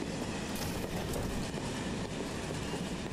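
A passenger train rides along in the video game Final Fantasy VII Remake, a steady, dense rumble of rolling carriages with faint rail clatter and no talk.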